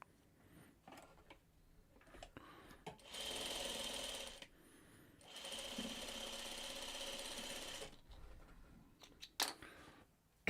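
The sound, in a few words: sewing machine stitching fabric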